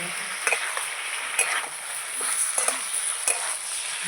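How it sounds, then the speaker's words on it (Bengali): Ridge gourd and potatoes frying with spices in a pan, a steady close sizzle broken by light scrapes and clinks of stirring. "এই যে দিয়ে দেবো আলুর সঙ্গে মশলার সঙ্গে ভালো করে কষাতে থাকবে"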